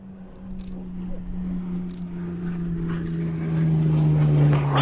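Spitfire at the Duxford air show, its propeller engine droning steadily and growing louder as it approaches, with faint background noise and no talk.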